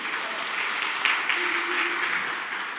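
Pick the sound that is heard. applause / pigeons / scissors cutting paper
applause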